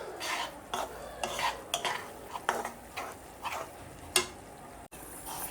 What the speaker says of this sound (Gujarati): તો આપણે મિશ્રણમાં જાયફળનો ભૂકો એડ કરી દઈશું, તેને હલાવી લઈશું